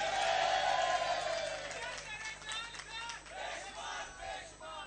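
A crowd at a political rally for the Sher Jawan program in Karachi chants slogans. A loud shouted chant opens, then fades into general crowd noise and voices.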